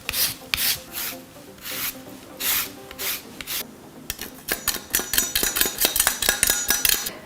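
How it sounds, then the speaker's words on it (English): Large lemon rubbed against a zester, a close rasping scrape repeated in slow strokes that turn into quicker, shorter scratches toward the end, with no talk. "Zest the lemon and then add that zest into a large measuring cup."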